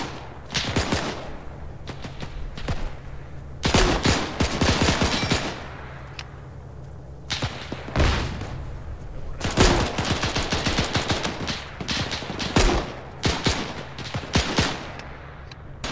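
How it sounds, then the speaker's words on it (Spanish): Bursts of machine gun fire crackle from the left in a war video game, loud and close, arriving in several separate volleys with quieter gaps between them. "Ametralladora por la izquierda"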